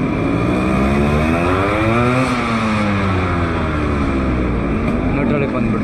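A Yamaha RX100 two-stroke motorcycle engine runs steadily at close range with a slipping gear, a loud continuous buzzing drone whose pitch swells and dips as the revs rise and fall, with no pauses.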